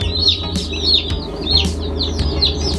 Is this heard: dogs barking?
no